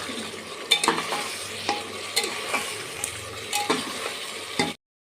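Ginger, garlic and green chili paste sizzles in a pan for a mutton curry with potatoes, with a spatula scraping in periodic strokes over the steady frying hiss, close and continuous before stopping abruptly.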